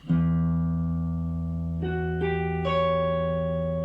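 A Fender Estacado Telecaster electric guitar rings out in E Dorian, sustained chords with fresh notes added at three points, close and full with light reverb and an effects-tinged tone.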